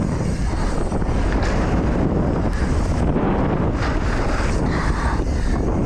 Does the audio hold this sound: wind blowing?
yes